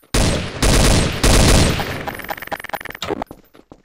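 Sustained bursts of gunfire in a downtown SWAT role-play video game, three loud dense volleys early on, then a rapid stutter of separate shots tapering off near the end, with no talking.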